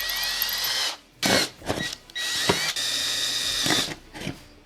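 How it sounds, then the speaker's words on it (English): A power drill with a small bit boring pilot holes for a vehicle phone mount, heard as several close, whining bursts of motor spin of varying length, separated by brief pauses. "Once you get your pilot holes done with that small drill bit, get the bigger one they supply."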